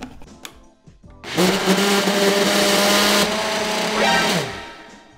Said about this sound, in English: And then we're just gonna blend this all together.